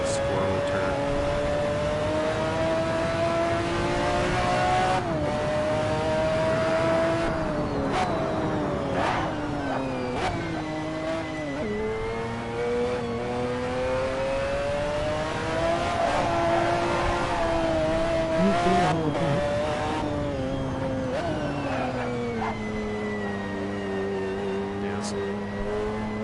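Race car engine in a racing video game howls through revs and rev-matched downshifts, the pitch climbing and dropping repeatedly over sustained, loud droning with brief gear-change dips.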